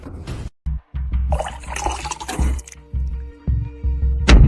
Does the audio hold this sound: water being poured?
yes